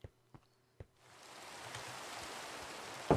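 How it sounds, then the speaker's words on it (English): Minecraft rain sets in as a steady broadband hiss after a few soft footstep-like taps, holding even and moderately loud for the rest of the clip with a brief louder knock at the very end. "See? Rain."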